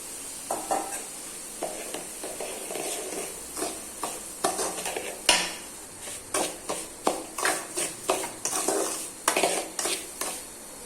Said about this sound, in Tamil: அடுத்ததாக அதே நெய்யில் ரவையை நல்லா வறுத்துக்கலாம்